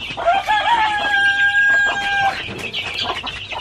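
Native chickens on a rural farm in the province, a rooster crowing loudly up close among clucking hens, continuous and busy with no talk.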